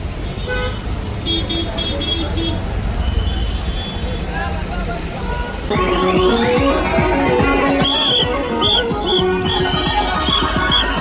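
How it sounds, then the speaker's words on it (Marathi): Heavy road traffic near Khopoli during a palkhi procession, with a constant loud engine rumble and scattered car horn toots, some close and sharp, others farther off. "त्यामुळं आता चाललो आम्ही चालत आणि खूप अशी ट्रॅफिक झालेली आहे."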